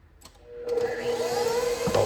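An electric mixer starts up and whips eggs, condensed milk and dry mix, a steady close motor whir that builds after a few clicks, with a bump near the end.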